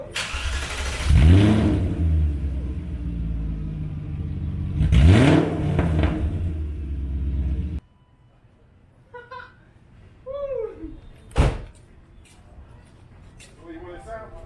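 Loud car engine starts up and revs hard twice, with a deep rising exhaust roar each time, followed by quieter speech and a few brief mechanical clunks.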